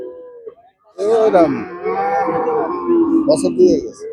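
A young two-year-old deshi bull at a Betaga cattle market gives one loud, drawn-out moo lasting about three seconds, close by. The call follows a brief quiet moment.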